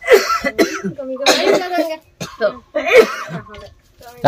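Several harsh coughs and throat-clearing bursts, close and loud, separated by brief pauses, with some voiced sounds between them.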